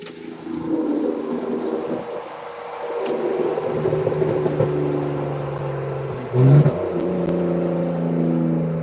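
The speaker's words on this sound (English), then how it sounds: "I like the high-pitched sound that the BMW can make." A BMW with a straight-pipe exhaust drones and rises in pitch while accelerating, heard steadily from inside the car with a brief louder surge near the end.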